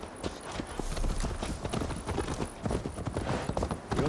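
Horse hooves clip-clop steadily at a riding pace in Assassin's Creed Valhalla. The dense, rhythmic thuds stay close and prominent over a faint ambient bed.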